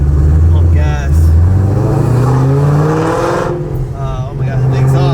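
A supercharged car with a full exhaust, American Racing long tube headers, an off-road X pipe and a Borla Attack muffler revs loudly up close, its engine note swelling and dropping under excited talk.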